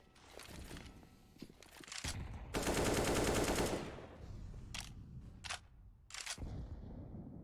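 Gunfire in a Valorant match crackles in scattered sharp shots, then a dense, loud burst of rapid fire lasts about a second before more separate shots follow.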